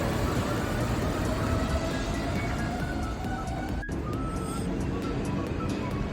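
A Japanese monorail train pulling out of a city station, a steady loud rumble and rush of rolling noise with faint whining tones rising through it.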